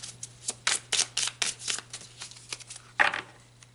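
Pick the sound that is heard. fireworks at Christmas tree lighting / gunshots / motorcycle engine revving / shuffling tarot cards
shuffling tarot cards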